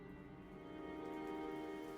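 Steady rain falls in the ghost-story video game Portrait of a Ghost, a soft, even hiss and patter that holds at a constant level throughout, with no voices.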